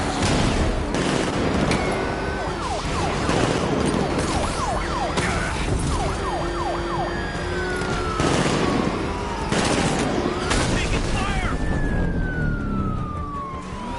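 Gunfire in a Batman game on PS4 rattles in bursts over wailing police sirens and engine noise, loud and continuous with dense overlapping action sounds.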